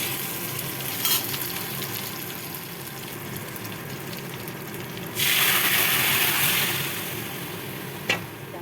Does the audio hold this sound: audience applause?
no